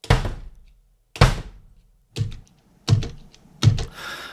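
Five separate dull kick drum thumps, unevenly spaced, each with a short rattly tail from the foot lifting off the pedal board, and silence between hits.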